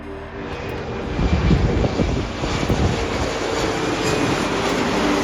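A small Cessna propeller plane passes near Madeira Airport, its engine a steady, fairly close drone that swells slightly and holds without voices.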